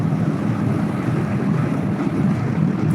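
Kawasaki Eliminator 450 motorcycle cruising fast in top gear, heard as a loud, steady engine drone buried under heavy wind rush.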